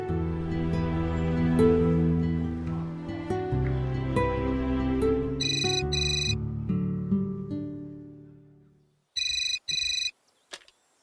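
A phone ringtone plays a melodic tune, then two short bursts of electronic ringing come from a phone placed on a call, loud and close with no talking.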